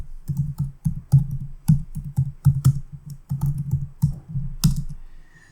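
A computer keyboard clacks close up as code is typed, in bursts of quick keystrokes with short pauses and a few heavier key presses.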